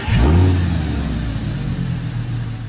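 An Audi R8 V10 engine revs hard, a deep rumbling swell that peaks early and then settles into a steady throbbing drone, loud and close with no voices.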